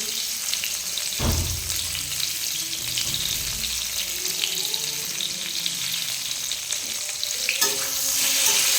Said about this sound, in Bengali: এক মিনিট মতো ভেজে নেবো